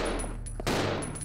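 Gunfire in the survival horror game Resident Evil Zero HD Remaster, a short burst of shots with one sharp crack standing out above the background game audio, moderately loud.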